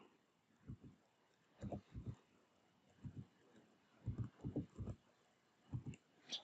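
Fingers type on a computer keyboard, entering a number into a form. The keystrokes come in short irregular clusters of soft, quiet clicks with brief pauses between them.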